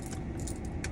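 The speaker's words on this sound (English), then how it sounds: "And this one, I keep my keys." A bunch of keys on a keyring jingles close by in a few quick metallic jangles lasting under a second, over a low background hum.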